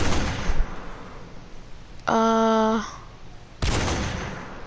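Barrett rifle fired at a firing range in a video game: a loud broadband blast opens, then a sharp report with ringing tonal tail, followed by another heavy shot near the end.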